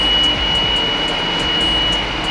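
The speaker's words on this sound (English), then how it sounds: "There goes your leak." Steady broadband hissing and rushing noise from a leak in a cracked boiler, with a faint high whine and a soft rhythmic pulsing, close and continuous throughout.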